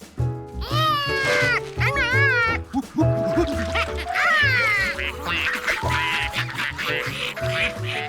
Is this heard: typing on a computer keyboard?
no